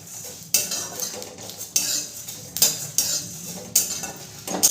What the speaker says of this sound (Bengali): গোটা মশলাগুলোকে দিয়েও ভালো করে আমি নেড়ে চেড়ে ভেজে নেব।